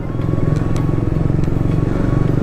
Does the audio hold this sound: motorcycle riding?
yes